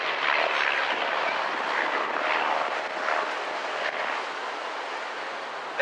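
An RV-8 kit-built aircraft with a Lycoming flat-4 engine drones steadily overhead during an echelon formation display at an air festival, a continuous broad engine roar that holds level throughout.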